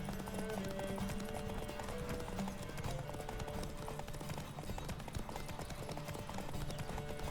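Rapid rhythmic clip-clop of a galloping horse's hooves in the video game The Witcher 3, steady and close throughout, over a low continuous rumble of game sound.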